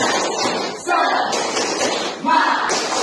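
A group performs a rhythmic spirit clap, the tepuk semangat, loud and dense bursts of hand claps with shifting patterns, close and continuous for a few seconds.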